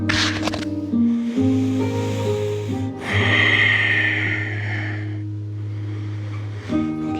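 A slow, deep inhale through the nose during a yoga stretch, close and breathy, rises for a couple of seconds over steady low background music.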